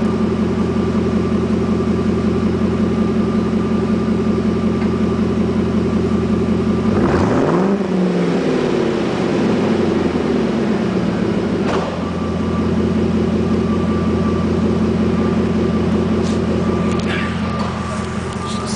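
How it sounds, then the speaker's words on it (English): A Ford F150 pickup's engine idling with a steady exhaust note, then blipped once in a short rev that rises and falls before settling back to idle, heard up close. "It's got a good exhaust note."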